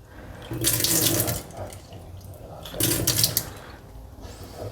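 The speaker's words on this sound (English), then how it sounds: "And first I wash it in a cold water." Cold tap water runs over buckwheat grains being washed, two loud bursts of splashing flow from the faucet separated by quieter swishing, close by with no talking.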